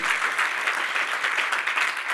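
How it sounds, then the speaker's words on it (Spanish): A church congregation breaks into steady, full applause during a sermon, many hands clapping evenly throughout without a pause. "Dale un aplauso a la gloria del Señor"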